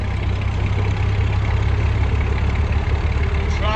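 A classic car's engine drones steadily while being driven in top gear at a car show in Sunderland, a loud, continuous low hum with no letup.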